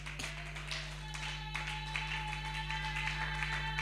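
A church congregation applauds, with scattered claps and taps over a steady low electrical hum in the hall. The clapping is fairly light and continuous, with no voices over it.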